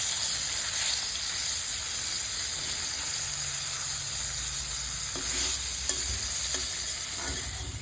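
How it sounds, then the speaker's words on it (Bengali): Katla fish frying in mustard oil on a gas stove sizzle steadily while the pieces are flipped and turned, with a few sharp scraping clicks of the utensil against the pan near the end. "মাছগুলো উল্টে পাল্টে ভেজে নিচ্ছি।"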